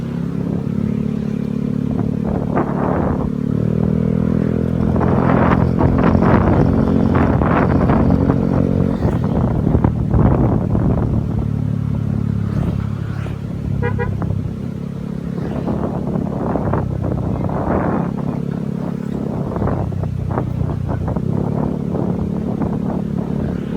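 A Yamaha Mio Gear 125 scooter-style motorcycle hums steadily while riding through Metro Manila traffic, its engine drone rising and falling with throttle under constant wind buffeting and occasional clatter.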